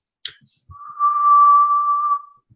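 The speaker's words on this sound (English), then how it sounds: "have you ever heard someone's hearing aids whistle?" A hearing aid gives off a feedback whistle: one steady, high, piercing tone that holds for about a second and a half, alone and fairly loud, with a couple of faint soft taps before it.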